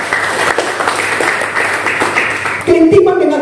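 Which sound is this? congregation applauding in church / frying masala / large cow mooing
congregation applauding in church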